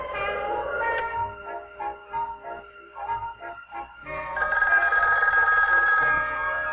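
A telephone rings at the Chicago end of a 1958 long-distance direct-dialed call, heard as repeated ring bursts with short gaps and a steadier stretch of ringing near the end, all fairly clear with no talking.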